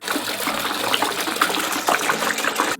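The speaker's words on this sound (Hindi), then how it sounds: "पहले पानी डालते हैं।" Tap water gushing steadily into an empty aquarium tank being set up for goldfish, a loud, continuous splashing pour that stops abruptly at the end.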